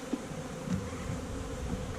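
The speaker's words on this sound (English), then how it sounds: "I can tell the bees are getting a little antsy" Honey bees buzz around an open hive in a dense, steady drone, close and even, with no talking.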